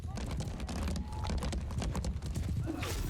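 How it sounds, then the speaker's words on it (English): Horse hooves gallop in Mount & Blade II: Bannerlord, a steady dense clip-clop under a busy battle mix with a brief whinny, fairly loud and continuous throughout. "Horse archer still riding around"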